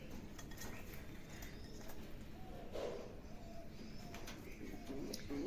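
Lakka fantail pigeons coo in soft, low murmurs, quiet and somewhat distant, with a few brief calls standing out over a steady low background hum.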